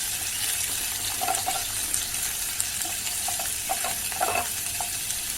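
Chopped onions frying and being stirred in a pan for a restaurant-style paneer dish, a steady close sizzle with scraping stir strokes and faint watery crackle, no voices.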